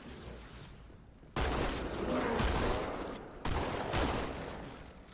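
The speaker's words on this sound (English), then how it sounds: "Did I just shoot myself with a shotgun?" Two heavy shotgun blasts boom out in the Halo 2 video game, a couple of seconds apart, each a loud, broad crack that rings and fades slowly over the muffled rumble of gameplay.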